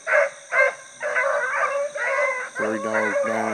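Rabbit hunting dogs bark and bay on a morning chase just after a rabbit is jumped, with repeated loud yelps and drawn-out howling voices layering together close by, no talk.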